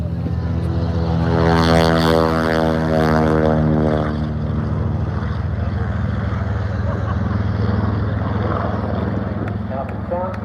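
A propeller aircraft known as the Drone flying past at the Aldinga airshow, a loud droning engine roar with a steady rising and falling whine that peaks early, then fades and lingers at a distance.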